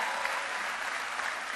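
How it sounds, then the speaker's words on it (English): Steady applause from a large audience at the 2018 Ohio FFA Convention, a dense, even wash of clapping filling a big hall. "That was a dramatic pause for the applause."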